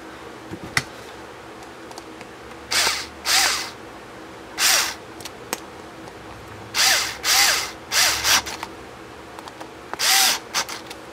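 Short bursts from a power drill driving screws into a small trailer wheel, about eight whirring pulses of a second or less with quiet pauses and small clicks between them.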